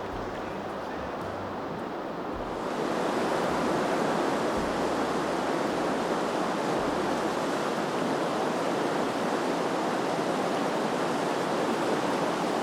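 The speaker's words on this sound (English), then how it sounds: "Just came up to this little set of rapids where the Pickerel River flows into Sturgeon Lake" River rapids where the Pickerel River flows into Sturgeon Lake, in Quetico, give a steady broad rushing roar of churning water that swells louder after a few seconds and continues close and unbroken.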